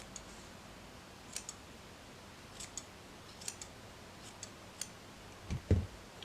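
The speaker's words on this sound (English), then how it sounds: "I'm just going to take my scissors and very, very gently trim off some of the excess fibres along the bottom" Small scissors snip excess wool fibres from the bottom of a needle-felted Halloween raccoon, a series of faint, sparse clicks and snips close by, ending in a slightly louder handling rustle.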